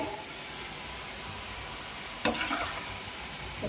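Okra (bendakaya) fries in a pan with a steady soft sizzle, and a sharp scrape of stirring cuts in near the end, close by with no talking.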